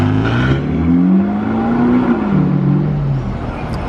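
A blue Ferrari 458 Aperta passes on a Monaco street, its engine loud and sustained with a rising then falling pitch as it goes by close, no voices over it.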